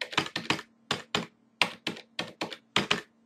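Fingers type on a computer keyboard in short bursts, about a dozen crisp clicking keystrokes close by, grouped in pairs and separated by brief silent pauses.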